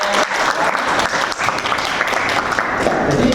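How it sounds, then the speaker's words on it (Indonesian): Dense, steady applause from a classroom audience during a biology teaching practice session, many hands clapping close by for the whole stretch with no pause. "Ya, baik, kasih tepuk tangan untuk."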